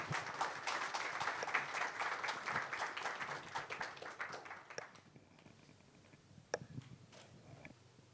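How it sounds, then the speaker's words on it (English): Applause from a conference audience for a panel of speakers at GFF'25, a steady burst of many hands that thins out midway into scattered, fading claps and a few sharp ticks. "Let's have a huge round of applause for all the speakers."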